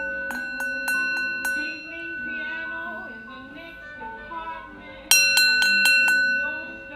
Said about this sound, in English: My Oshun bell is over there.